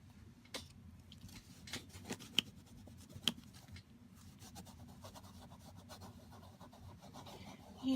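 Dry rubbing strokes over a stencil laid on a handmade gift card, made with Aladine craft products: soft scratchy rasping close up, steady and quiet, with a few sharper ticks along the way.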